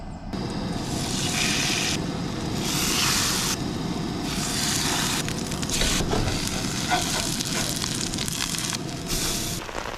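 Burgers sizzle and crackle steadily in a hot frying pan, a constant hiss with faint scraping and clatter.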